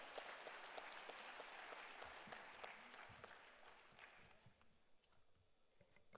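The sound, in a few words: audience applause at a conference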